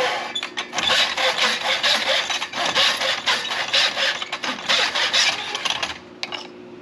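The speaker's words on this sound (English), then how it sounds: "I decided to cut it on the miter box, so that's why I'm over here." A hand saw cutting a piece of wood in a miter box, a continuous fast rasping of rapid strokes close by, fading out as the cut ends.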